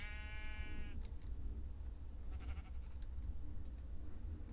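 A sheep in a video game gives one bleat at the start over a steady low background hum, followed by faint, scattered clicks and taps.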